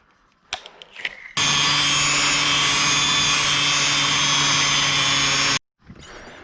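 A power tool strips paint off steel wheels with a loud, continuous high whine lasting about four seconds, framed by brief clatters before and after.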